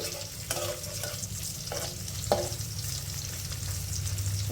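Salted fish pieces frying in a pan make a steady, close sizzle, with several soft scraping stirs or turns of the pieces and no talking.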